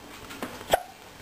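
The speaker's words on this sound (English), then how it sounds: "One hiccup, two hiccups, three hiccups," A baby's single short hiccup pops out close by after a faint softer one, with quiet room air around it.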